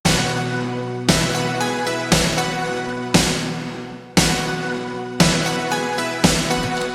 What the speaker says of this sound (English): So I've got that intro gated snare sound there